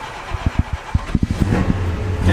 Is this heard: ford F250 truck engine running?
yes